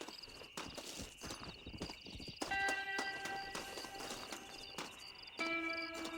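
Horses in Red Dead Redemption walk with a steady clip-clop of hooves, under a quiet ambient game soundscape with sustained tonal music or insect-like chirps layered over it.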